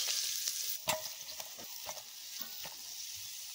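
Shrimp fry in oil with a soft, steady sizzle, punctuated by a few sharper clicks and scrapes of stirring, fairly quiet and close.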